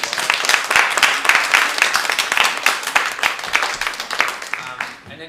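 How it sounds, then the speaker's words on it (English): Enthusiastic audience applause following a theatre performance, a dense, steady wash of many hands clapping close and loud, tapering off toward the end. "another round of applause for Loussin and Isley for that amazing"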